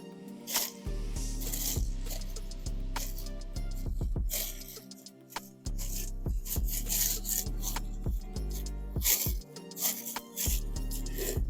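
Plastic wrap is pulled and pressed tight around a block of emulsified body scrub. It makes close, crinkly rustles and sharp snaps in uneven bursts, with soft squishes in between.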